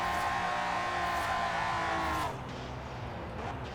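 Turbocharged BMW E46-sounding drift car engine, a steady loud drone heard from inside the cabin that drops to a quieter idle partway through, with no talking.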